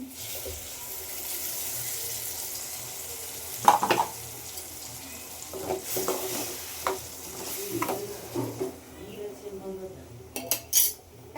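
Ground tomato paste goes into a pan of fried onions, bringing a steady sizzle and frying hiss with intermittent scraping and stirring clinks of a utensil against the pan, moderately close and with no talking.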